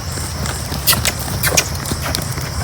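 Hooves of a Crioulo horse clip-clop on a riding track as it is ridden, an irregular series of close, sharp hoofbeats over a steady background.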